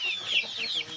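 Local chicks about a month to a month and a half old cheep in a coop, a quick run of thin, high chirps close by, with faint clucking beneath and no talk.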